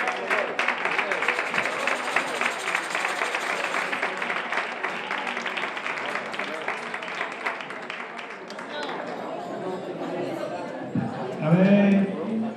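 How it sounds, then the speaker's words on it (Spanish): Loud applause from an audience at a shepherds' pastoral song contest, with dense clapping filling the first eight seconds and then thinning out as voices and a short sung note come through near the end. "Fuerte aplauso, los bataderos."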